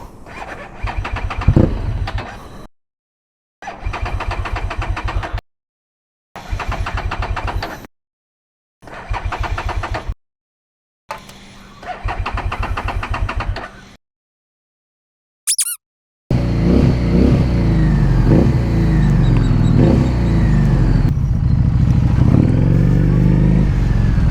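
A Harley-Davidson Street 750 motorcycle engine cranks over in several short bursts separated by silence, then catches and runs, rumbling loudly through the exhaust and revving up.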